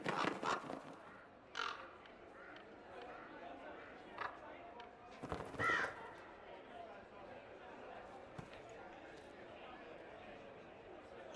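Crows caw a few times in the video game Dragon Age: Inquisition, scattered short calls over a quiet outdoor ambience, with light scraping and footstep-like sounds.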